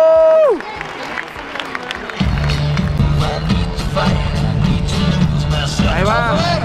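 At a rodeo arena, crowd applause and cheering rumble under a commentator's voice, with a loud steady hum in the background and a few sharp claps and shouts scattered throughout.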